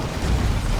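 Heavy executioner cannon shots in the video game Warhammer 40,000: Dawn of War 2: a dense, loud, low rumbling boom that fills the whole short moment with no break.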